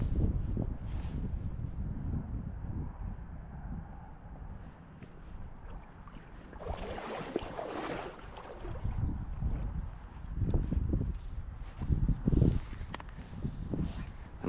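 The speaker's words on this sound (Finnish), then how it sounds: "Vähän sen tuulee aika rajusti, mutta ei se nyt haittaa." Strong wind gusts roar across a microphone beside a river at Annijoki during salmon fishing, a broad rushing noise that swells and fades in bursts, with water sounds and faint movement underneath and someone talking briefly.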